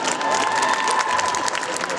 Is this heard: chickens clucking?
no